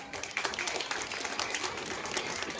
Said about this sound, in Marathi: या सगळ्या महिला नेत्यांसाठी खूप जोरात टाळ्या वाजव